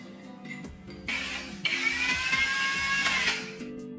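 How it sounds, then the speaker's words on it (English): A ratchet turns camshaft bolts down during an SR600 engine rebuild, quick close clicking bursts with metallic ringing and gear-like whirring, alone without talk. "we install the camshafts and pre-torque them down into position"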